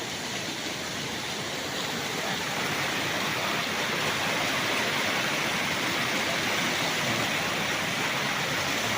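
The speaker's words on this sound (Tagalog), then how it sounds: "mayroon nga parang man-made falls dito" River beside a farm lot in Majayjay, Laguna, with a small man-made waterfall, a continuous rushing wash of flowing water, steady and fairly close, with no talk.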